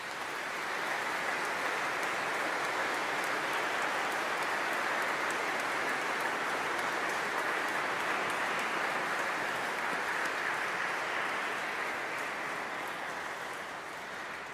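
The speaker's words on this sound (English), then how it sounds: "Let's give them a round of applause." Dense, sustained applause from a congregation fills St Mary's Cathedral after a college anniversary Mass, a steady hissing wash of many hands with no single claps standing out, easing slightly near the end.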